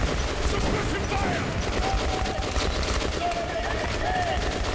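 Sustained gunfire in a firefight in Metro Last Light, dense rapid automatic bursts rattling continuously and loudly, with shouted voices faintly underneath.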